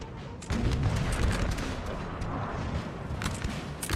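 Artillery and cannon fire in the Napoleonic-era battle game Napoleon Total War, a dense rumbling barrage of booms that swells sharply after a half-second and rolls on continuously with scattered cracks on top.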